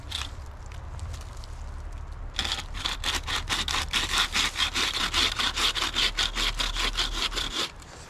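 A bucksaw cuts through a tree trunk with quick, rhythmic back-and-forth strokes, starting after a brief quiet moment and continuing steadily, close and clear.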